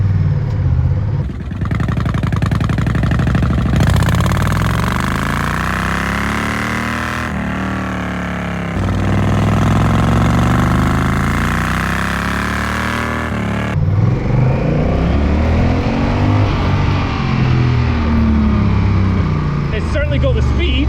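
A Honda Rebel 1100 motorcycle engine drones loudly on the road, rising and falling in pitch through gear changes, with heavy wind rush throughout and a rider's voice partly heard beneath.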